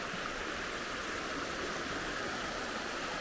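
A low-flowing creek bed at Lake Wynoochie, late in the season after spring runoff, gives a soft, even hiss of trickling water with no other sounds.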